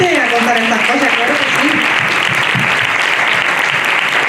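Loud, dense applause from a round-table audience fills the whole stretch, steady and continuous, with a few voices briefly audible at the start.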